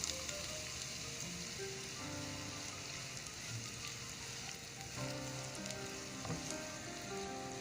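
A large batch of chopped onion sizzles in hot oil, a steady, dense crackling hiss that runs unbroken from start to finish, with faint background music underneath.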